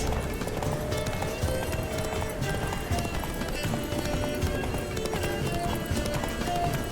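In The Witcher 3, Geralt's horse Roach gallops in a rapid, continuous drum of hoofbeats over a dense bed of game ambience, close and steady throughout.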